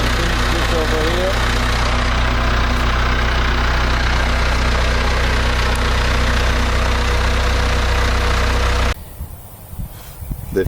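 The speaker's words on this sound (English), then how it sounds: "the dozer start fine and run fine" A diesel bulldozer engine running after repair of its Bosch VA4 injector pump, a loud, steady rumbling idle close by that holds for about nine seconds before dropping away abruptly.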